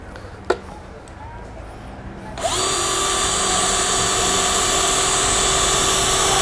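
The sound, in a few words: drilling through ultra-high-strength steel sheet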